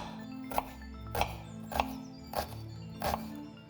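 A knife chops a medium onion into small cubes on a board in a home kitchen, five soft, evenly spaced strikes over a low steady background hum, fairly faint and with no talk.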